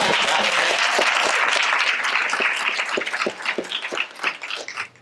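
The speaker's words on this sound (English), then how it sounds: "Everybody, big round of applause." A premiere audience claps enthusiastically, dense applause that thins out into scattered claps near the end.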